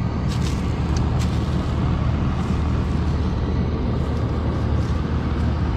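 A Rheem RRNA 2006 gas pack runs with its draft motor and condenser going together, a steady, loud broadband whir and hum throughout with no pauses.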